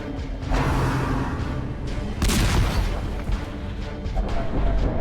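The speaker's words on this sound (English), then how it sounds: "And then the cannon." Cannon fire from the dark fantasy game Darkest Dungeon: a loud booming blast and crash fill the clip, with a second heavy impact about midway, dense and close with no talking.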